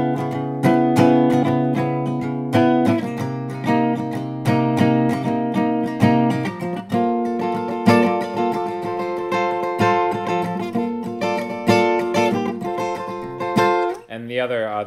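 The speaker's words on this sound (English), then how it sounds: "I just kind of think of them as chromatically descending arpeggios." Acoustic guitar plays chromatically descending arpeggios, the picked notes ringing out in a steady rhythm, close and clear, with no talking.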